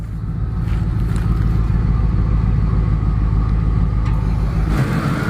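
A 2004 Ford F-150 engine idles steadily just after starting, with a loud, continuous low rumble and a faint exhaust-leak ticking that holds throughout without talk.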